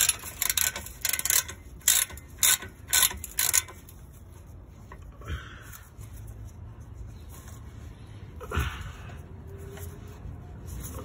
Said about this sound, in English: I need to undo the 17mm nut that's on here